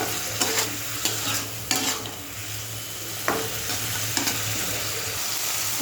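Meat being stir-fried in a pan, a steady sizzle broken by repeated spatula scrapes and knocks at an irregular rhythm, close and alone.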